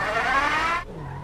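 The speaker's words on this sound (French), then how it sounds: "Ça part en drift direct." An Opel car drifting in GTA 5, a loud tire squeal over engine noise that cuts off abruptly near the end, leaving a low engine tone.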